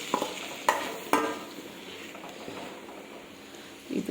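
Coriander powder, chili powder and turmeric powder frying in a pan for sambar, a soft continuous sizzle with a few sharp scraping stir strokes and a brief clatter near the end.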